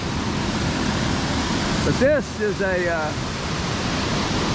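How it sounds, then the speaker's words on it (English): The waterfall on Steels Creek rushes as a loud, steady broadband roar close by, while someone speaks briefly over it. "Steels, waterfall on Steels Creek"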